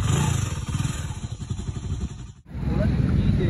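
A motorcycle fitted with a new rim rides by with a throbbing engine, rising and falling with a brief cut near the end, close and fairly loud amid clattering noise.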